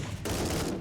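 Heavy bolter fire in a Warhammer 40,000 video game: a dense, sustained burst of heavy gunfire that swells after a brief lead-in and stays loud through the rest of the moment.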